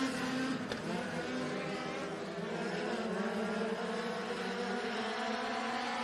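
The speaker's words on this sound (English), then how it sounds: "8 cars, heat race in action underway." Eight dirt-track race cars in an MLDS heat race at Benton County Speedway, heard as a steady, fairly distant engine drone that holds on without a break, with no voices over it.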